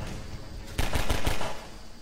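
Gunfire in the shooter game Half-Life 2, a short burst of four or five rapid automatic shots, loud and close, following a moment of quieter in-game ambience.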